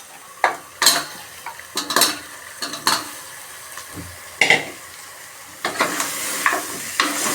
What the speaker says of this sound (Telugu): పసుపు వేస్తున్నా మనం నీట్గా కడిగి పెట్టుకున్న కాళ్ళు ఇప్పుడు వేసేస్తున్నా